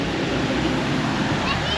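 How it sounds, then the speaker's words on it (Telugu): A waterfall near Gangtok in Sikkim pours down from a height, making a steady, dense rushing roar that holds evenly and then cuts off abruptly at the end, with faint voices in the background. "మొత్తం పైన నుంచి అయితే భలే పడుతున్నాయి."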